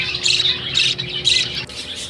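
A pet bird by its nest box gives three loud, harsh squawks in a steady rhythm, close by, with no talk.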